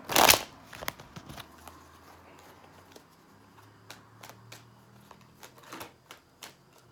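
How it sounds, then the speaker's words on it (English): Tarot cards are shuffled up close: a loud riffle at the start, then scattered soft flicks and taps of cards being handled and squared. "Shuffle one more time."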